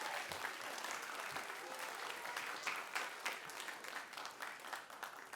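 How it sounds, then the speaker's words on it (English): A faint, steady round of audience applause for the participants and finalists of a middle school geography bee, dense clapping throughout with no talk over it. "a huge round of applause for all of our participants, you and our finalists"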